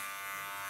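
Short burst of an electric hair clipper humming close and steady as it is held flat against the skin to cut short underneath hair.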